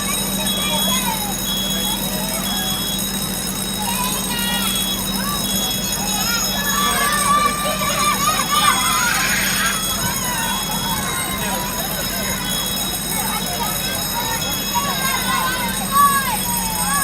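A fire engine's wailing siren rises and falls as the truck responds to a call, steady under people talking nearby.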